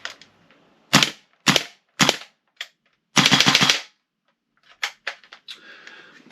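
A WE G3A3 airsoft rifle, unloaded, is dry-fired in a function check, with sharp single gas-blowback shots, a quick full-auto burst, then lighter clicks and rattles of handling up close.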